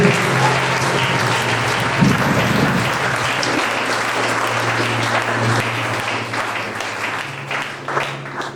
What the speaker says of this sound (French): Acclame d'abord le Seigneur.